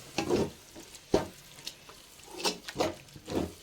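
Ginger and garlic frying in a pan as curd is poured in, giving bursts of sizzling and stirring scrapes in an uneven rhythm, close and moderately loud.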